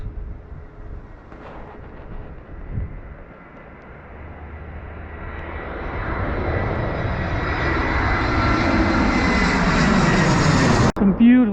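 An airplane engine roar builds from a faint drone to a loud, close rumble overhead in the English countryside, swelling steadily before cutting off abruptly near the end.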